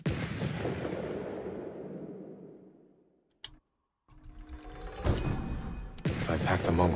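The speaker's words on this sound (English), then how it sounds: "If I pack the Mongols' black powder into a clay pot, I can set it aflame and throw it as a weapon." A clay pot black powder bomb blasts in Ghost of Tsushima, a heavy boom that fades over about three seconds, then a moment of silence before fresh clattering impacts and game sounds.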